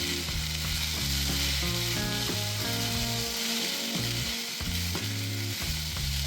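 Sago and vegetables fry over a medium gas flame while being stirred in a pan, with a steady, loud sizzle and scraping spatula strokes running throughout and nobody talking.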